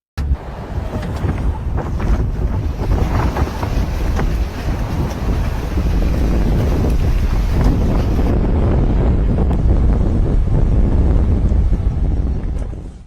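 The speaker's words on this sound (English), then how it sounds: "it was powerful wind lifting snow into full whiteout conditions" Powerful blizzard wind roars steadily across an Ontario road in whiteout conditions, a loud, continuous broadband rush buffeting the microphone with no pauses for the full length.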